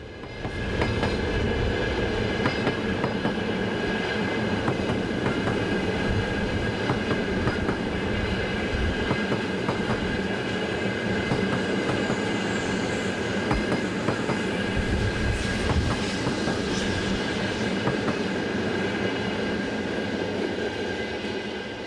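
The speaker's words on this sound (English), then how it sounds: "this ETR 450 high-speed train set, passing with a service from Roma to Taranto." An Italian ETR 450 high-speed train roars steadily past in windy conditions, with continuous rumbling, rail clatter and faint squeal, loud and close throughout.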